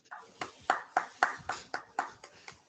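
Scattered claps come from a few participants in an online meeting, about nine separate sharp hits in an uneven rhythm, thin and close through open microphones.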